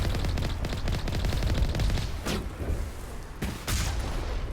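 Dense rapid gunfire crackles almost nonstop through a Mass Effect firefight, punctuated by a couple of heavier blasts that fit rocket launches, loud and close throughout.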